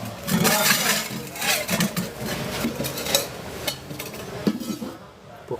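A copper pot is handled among antique metal wares, giving irregular clanks, taps and scrapes of metal, moderately close and fairly quiet, with no speech over them.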